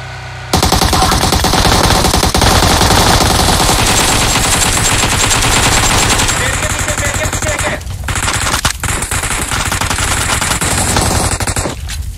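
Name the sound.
machine gun fire in the video game PUBG Mobile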